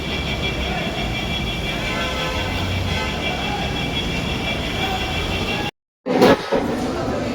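Metro train running on an underground line, a steady close rumble and droning whine with faint tonal hum throughout, briefly broken by a cut near the end.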